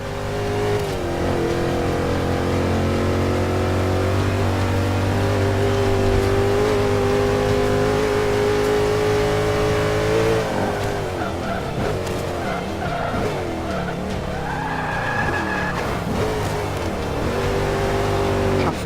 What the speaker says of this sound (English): I'm going to leave the sound of me hitting 200 and watch how bad I spin out at the end